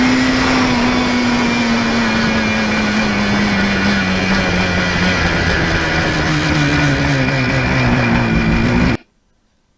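A Yamaha RD400 motorcycle fitted with new Mikuni carbs pulls hard and loud through the gears at full RPM, its engine pitch holding steady and climbing before cutting off abruptly into near silence.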